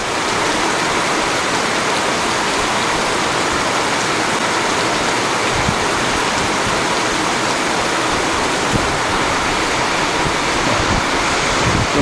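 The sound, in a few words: rain storm with strong wind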